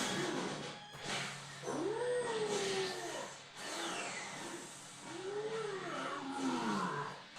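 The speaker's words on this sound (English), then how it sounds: "I'm not really convinced by this panda gorilla sound." Anime sound effect of a panda gorilla creature, faint growling roars with rising and falling pitch sweeps, two drawn-out calls over a noisy background.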